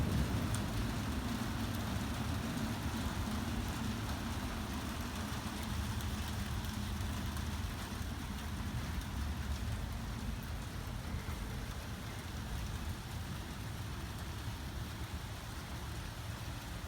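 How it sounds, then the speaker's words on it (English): Heavy springtime storm rain pours steadily as a dense, unbroken hiss, loud and constant throughout with a low rumble underneath. "this is starting to turn into quite the storm here"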